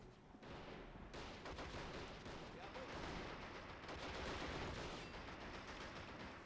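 Continuous gunfire and machine-gun bursts in the World War II strategy game Men of War: Assault Squad 2, a dense, steady crackle of shots heard low in the background.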